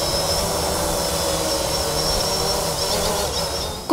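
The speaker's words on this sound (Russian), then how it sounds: "Коптер МЧС вылетает на охоту за нарушителями." A Russian emergency ministry copter drone flies over the Biysk–Barnaul highway, its steady, loud engine roar filling the air without pause, with a brief louder burst right at the end.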